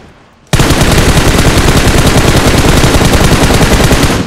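Sustained automatic gunfire erupts suddenly after a quiet half-second in a video game battle at Pochinki, a dense, loud, rapid stream of shots continuing without pause to the end.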